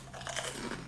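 Close, crisp crunching of a bite into crunchy roast food from an English Sunday roast, a quick cluster of brittle cracks with no talking.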